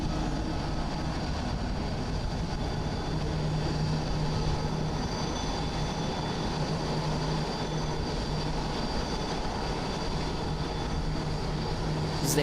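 An Air China Airbus A330-300 landing at Haneda Airport in Tokyo after a flight from Beijing, heard as a steady, loud jet engine roar that holds for the whole stretch.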